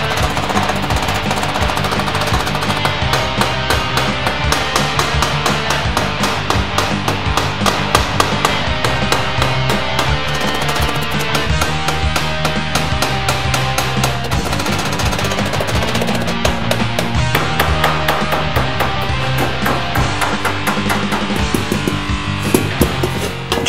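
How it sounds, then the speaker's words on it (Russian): A hammer bends galvanized sheet metal into an elbow, striking in a quick, steady series of sharp metallic taps that run continuously over a busy background. "И не старайтесь сразу на 90 градусов молотком повернуть."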